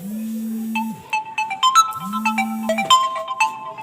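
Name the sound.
mobile phone ringtone, incoming call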